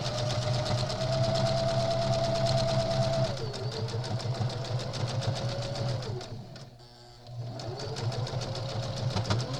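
A sewing machine stitching crazy quilt blocks together runs in a steady, fast mechanical whir with a rhythmic needle clatter, slowing and pausing briefly near the end before starting up again, close and continuous.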